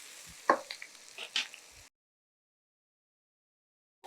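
Cucumber and pineapple sauté in a pan for a Thai fish curry, giving a short burst of sizzle and a few stirring scrapes over about two seconds before the sound cuts to silence. One faint knock comes near the end.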